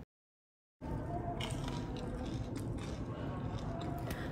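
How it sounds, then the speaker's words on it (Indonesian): Someone bites into crispy battered smashed fried shrimp (udang geprek) with chili sambal, a steady close crunch and chewing under a continuous noisy background, with no voice. "Tepungnya crispy, renyah, bumbunya pas."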